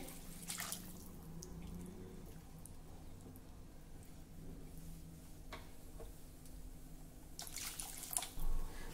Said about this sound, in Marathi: आता यामध्ये आपल्याला गरम पाणी घालायचं आहे